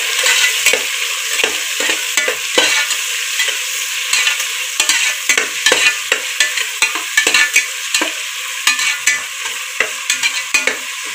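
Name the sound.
onions sautéing in a pan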